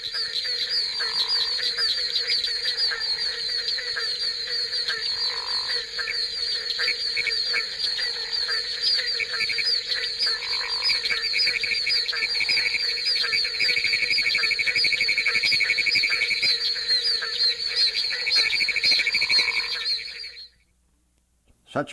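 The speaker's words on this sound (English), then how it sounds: "The barking tree frog is easily recognizable in a chorus recorded in Highlands County, Florida, even though 10 other species of frogs were calling at the same time." Barking tree frogs calling in a dense night chorus alongside about ten other frog species in Highlands County, Florida: steady layered trills and repeated hollow barks, loud and continuous before cutting off abruptly near the end.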